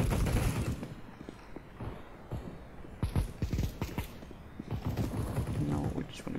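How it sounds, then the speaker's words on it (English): Desert Eagle pistol shots in Counter-Strike: Global Offensive ring out in a rapid, uneven burst. Sharp cracks sit among a loud, dense game mix of movement and mechanical clatter, with no voices over them. "Deagle being shot to all hell down."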